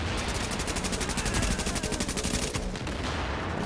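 Rapid, sustained automatic gunfire in The Division shooter game, a dense run of closely spaced shots hammering steadily for several seconds at close range, loud and alone with no talk.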